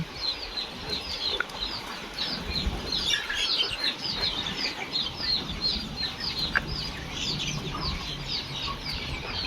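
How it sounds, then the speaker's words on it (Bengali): Fayoumi chicks on a poultry farm, among other young birds, chirp and cluck in a dense, continuous chorus of high peeps that sounds close and busy throughout. "দেখুন এটা বেশ বড় সাইজের ফাউমি"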